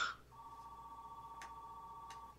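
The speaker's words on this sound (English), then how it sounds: "Was that a phone call?" A telephone call signal plays a steady, moderately loud electronic tone with a faint pulsing flutter, broken by two brief clicks.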